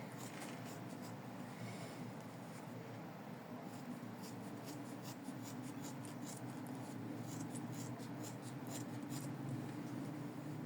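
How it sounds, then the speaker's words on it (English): Scissors trim felt close up for a winter felt heart: a quick irregular series of soft, crisp snips over a steady hiss, fairly faint, with no voices. "Felt is really pleasant to trim and easy, even better than fabric."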